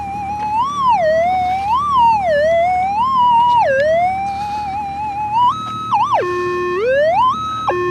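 Gold-prospecting metal detector giving a loud warbling target tone that swoops up and down continuously, then jumps between stepped pitches, heard close and alone.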